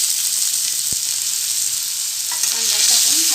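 Chopped onion for a chilli potato masala frying and being stirred in a pan makes a continuous bright sizzle, with one sharp knock of a utensil and some scraping toward the end, close and loud, no voices.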